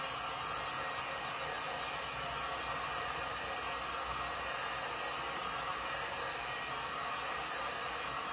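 A hair dryer blows steadily at close range, a constant breathy whoosh drying blue paint on a decorative tray, with no voices.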